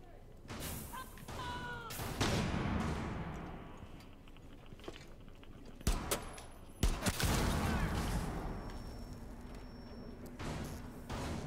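Gunfire in Rainbow Six Siege Beta during a Terrorist Hunt match: several loud, sharp shots and short bursts stand out against a lower bed of in-game rumble and thumps.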